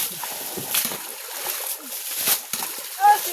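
A caught fish dropped into a water-filled bucket, giving a few brief splashes and sloshes close by, with talk in the background.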